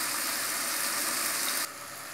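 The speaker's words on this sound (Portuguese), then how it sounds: "E tô fritando aqui" Pieces of coxão mole beef steak frying in a pan, a continuous bright sizzle that drops abruptly to a quieter hiss near the end, with no talking.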